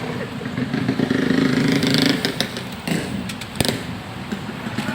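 A tuned motorcycle engine revving up and easing off in steady bursts, close and loud, with a person talking over it.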